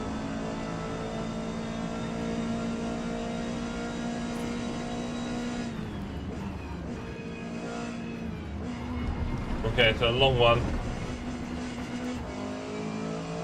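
Race car engine in Forza Motorsport on the Hakone circuit, a steady droning hum that holds at high revs, then shifts pitch and briefly surges louder with a rising whine before settling again, under a short spoken remark.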